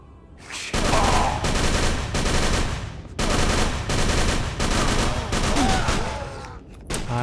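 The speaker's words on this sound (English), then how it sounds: "Oh, he's got a Tommy gun." Tommy gun fire rattles in the horror game Call of Cthulhu: Dark Corners of the Earth, in long, loud bursts of rapid automatic shots with brief gaps between them.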